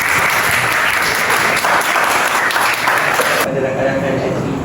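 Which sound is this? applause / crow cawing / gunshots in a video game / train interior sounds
applause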